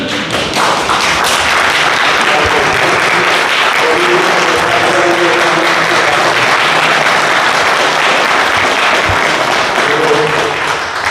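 An audience at a book launch gives sustained, loud, close applause, with dense clapping continuing throughout alongside a few faint voices.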